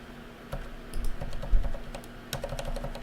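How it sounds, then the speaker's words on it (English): Keys tap on a computer keyboard while a ClickUp hotkey is pressed, a series of light quick clicks over a steady low hum, close and fairly quiet. "So pressing Q hides the sidebar."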